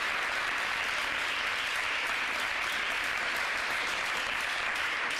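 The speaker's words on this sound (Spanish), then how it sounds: "vamos a dar un aplauso" Steady, dense applause from a large audience at a 2019 conference talk in Spain, with no voices breaking through the continuous wash of clapping.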